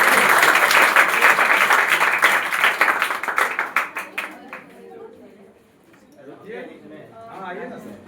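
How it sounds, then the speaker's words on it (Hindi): Loud crowd applause and clapping at a student award ceremony that fades out after a few seconds, followed by voices talking. "जोरदार तालियां।"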